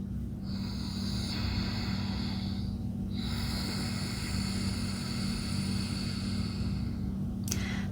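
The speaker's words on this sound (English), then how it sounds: "That sound is coming because I'm constricting the back of my throat." Steady rushing, ocean-like breath drawn through a constricted throat in ujjayi pranayama, a continuous close hiss with a brief pause in the middle and a low rumble underneath.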